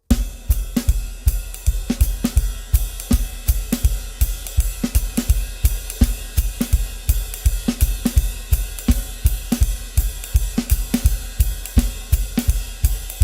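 A jazz drum kit plays a steady, slightly quickened beat with ride cymbal strokes and quiet ghost notes, each hit crisp and evenly spaced, loud and up close with no talking.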